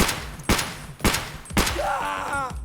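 Three sharp .366 rifle shots from Escape From Tarkov ring out at roughly half-second intervals against armor, loud and close, the last one trailing into a ringing tail with no voice over them.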